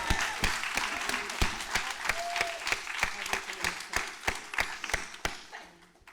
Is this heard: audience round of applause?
yes